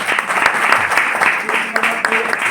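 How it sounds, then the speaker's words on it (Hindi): An audience at a group meeting breaks into clapping, a dense, fairly loud patter of many hands continuing steadily, with a voice faintly audible underneath. "तालियां बजा दो"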